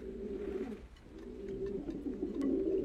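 Racing pigeons coo steadily in a loft, a dense overlapping chorus of low throaty calls running throughout at close range, with no talk.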